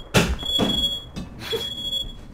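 Smoke alarm in the survival game Rust, a steady high electronic tone running under several loud thumps and clatters from nearby in-game action.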